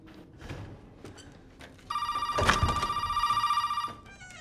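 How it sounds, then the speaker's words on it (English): Telephone ringing in the video game Resident Evil 7, a loud electronic trilling ring lasting about two seconds, preceded by quiet footsteps and ambient room sounds, then fading back to low background noise. "Fucking phone!"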